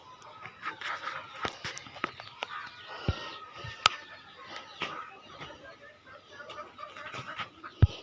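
Chickens around a yard give soft clucks and scattered calls amid rustling and sharp knocks, fairly faint and close, with occasional bursts of activity.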